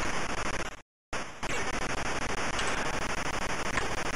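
Gunfire at rum bottles in The Untouchables video game on the Atari ST, a harsh, continuous noisy burst of shots that cuts out briefly before resuming, loud and steady.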